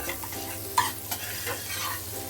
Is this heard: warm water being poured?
no